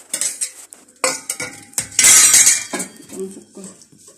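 Molokhia poured into hot broth in a cooking pot, with metal utensil clinks and scrapes against the pot, a burst of splashing and hiss midway, and a voice speaking briefly.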